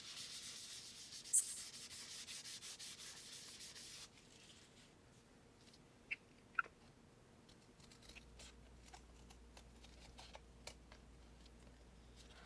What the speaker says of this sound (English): And then I'm going to buff off the excess.